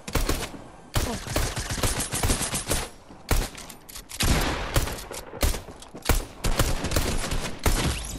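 Rapid bursts of gunfire in a Fortnite match, loud, dense volleys of sharp shots in clusters with short gaps between them, and one brief exclamation partway through.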